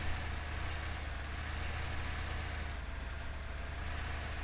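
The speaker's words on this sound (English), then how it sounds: "Can you hear how the engine just keeps dying down?" Low, steady truck engine drone from a video game, running in low-range gearing as the revs sag and die down, a continuous rumble with no talk.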